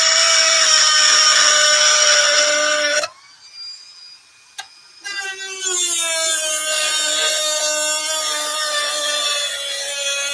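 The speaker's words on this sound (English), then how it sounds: "use up one disc of his Dremel to cut through that weight" A Dremel cutting disc grinds through a metal weight with a loud, steady high whine, cutting out for about two seconds in the middle and then resuming at a slightly lower pitch.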